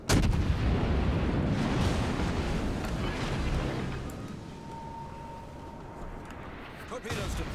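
Heavy naval gunfire in World of Warships, aboard the cruiser Wichita: a dense, rumbling barrage of booming shots that fills the opening seconds and then tapers into a fainter roar, with a brief tone and fresh rumble near the end.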